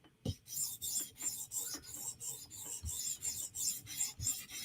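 A Protech Mordax knife blade is drawn over an abrasive stone on a TSProf Kadet guided sharpener: about a dozen quick, rasping strokes in a steady rhythm, close and fairly quiet.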